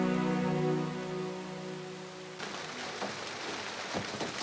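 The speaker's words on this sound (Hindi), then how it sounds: "वो साईं का ड्राइवर कह रहा है कि रास्ते बंद है बारिश की वजह से" Heavy rain pours steadily in a Pakistani drama scene, a tonal hum under the first half giving way to a dense, loud wash of rainfall with no talk.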